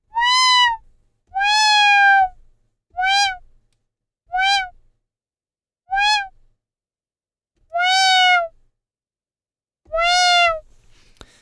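Arturia MiniBrute 2 synthesizer patch voiced to imitate a cat's meow, sounding seven separate whining meow-like notes. The short ones alternate with longer held cries, clear and close with silence between them.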